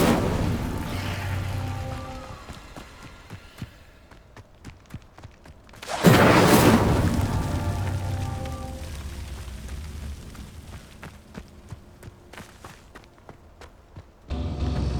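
Incendio fire spell cast in Hogwarts Legacy on PS5: a sudden loud fiery burst around the middle, flaring up and then fading, with game ambience and footsteps before and after.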